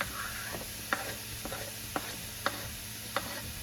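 Garlic sizzling in a pan for a vegan chili, a soft, steady frying hiss broken by a few sharp scrapes and taps of a spoon stirring, at moderate volume and without speech.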